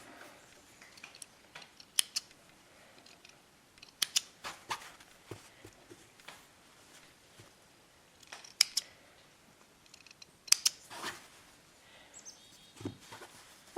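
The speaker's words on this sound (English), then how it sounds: "I'm just going to snip the threads." Scattered close snips of scissors cutting threads on a sewn fabric face mask, short sharp clicks in irregular bursts with quiet pauses between.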